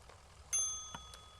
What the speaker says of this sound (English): Hey, it's the front desk! You can ring my bell.